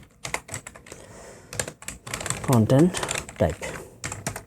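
Code being typed on a computer keyboard, bursts of close key clicks under a voice speaking Bengali.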